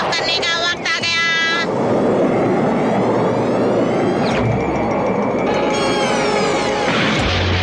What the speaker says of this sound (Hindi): आयरोना के टेक ऑफ करने का वक्त आ गया।